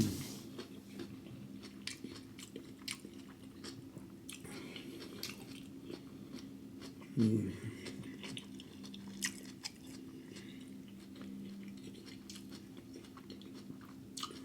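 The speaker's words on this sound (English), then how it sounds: "And then I'm gonna bite the cucumber." Someone bites and chews crunchy cucumber during a seafood boil meal, with soft, close mouth sounds and one sharper crunch midway through a quiet stretch.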